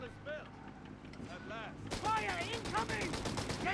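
Bursts of MG42 machine gun fire in the video game Company of Heroes 3, a dense rapid rattle that becomes louder and sharper partway through, with other battle noise and faint tonal game sounds mixed in.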